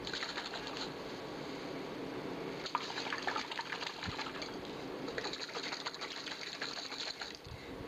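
Vinaigrette dressing sloshes steadily inside a bottle as it is shaken hard, a continuous wet rattling that swells and eases over several seconds, with no talk.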